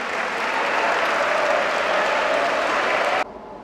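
An audience claps together for a few seconds, a dense, even burst of applause that cuts off abruptly near the end.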